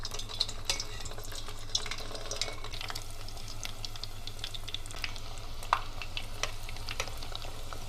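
Three potato slices fry in hot oil in a pot, a steady close sizzle with scattered pops and crackles over a low constant hum.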